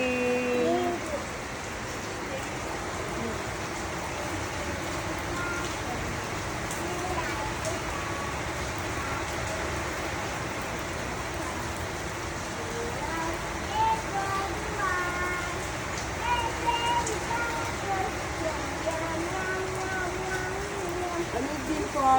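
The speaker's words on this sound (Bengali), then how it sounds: "Raining." Steady rain falls in Qatar on a cloudy day, a constant close hiss of drops striking surfaces that holds evenly throughout with no break.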